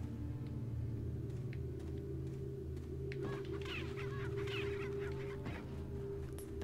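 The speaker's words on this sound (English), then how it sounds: "I'm not about to get attacked by like a swarm of chickens, am I?" Chickens cluck and squawk faintly over a low, steady ambient hum in Resident Evil 4, the bird calls scattered and brief against the droning game background.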